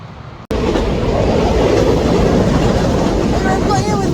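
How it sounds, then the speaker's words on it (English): A train rumbles past close by on the rails beside a river shore, with loud, steady clattering wheels and a faint squeal near the end. A brief quieter moment comes just before it starts. "all of a sudden a train went by"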